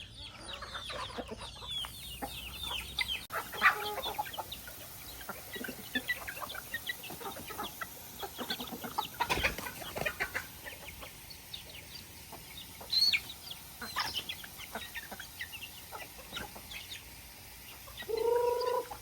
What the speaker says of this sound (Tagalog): Tignan nyo yung mga manok, o di ba?